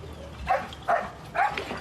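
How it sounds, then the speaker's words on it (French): A search-and-rescue dog at an earthquake collapse site gives three short, separate barks, moderately loud and fairly close, over low background noise. "le chien aboie."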